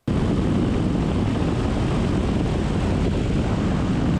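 Light propeller airplane engine droning steadily in cruise at about 2,400 RPM, a loud, continuous, close cabin roar with no break and no talk.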